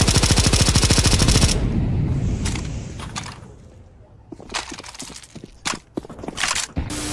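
Burst of rapid automatic gunfire from a suppressed weapon in the video game Counter-Strike 2, a dense fast-rhythm volley lasting over a second, followed by scattered single shots and mechanical clicks at moderate loudness.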